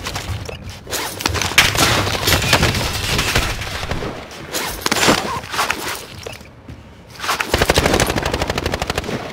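GRAU assault rifle fired in a first-person shooter game, rapid bursts of automatic gunfire with sharp repeated cracks and some louder impacts, ending in a fast steady rattle of shots.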